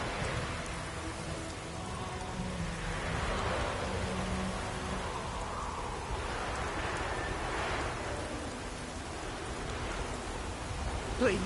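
Steady video game rain in Witcher 3 falls with a continuous soft hiss, broad and even, with no voices.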